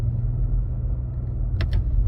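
Nissan Rogue with a CVT engine, a low steady cabin rumble while driving, broken by two quick clicks near the end.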